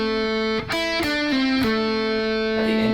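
A distorted electric guitar plays a sustained lead lick from a solo, with several quick picked and pulled-off notes stepping downward before a held note rings out, loud and alone.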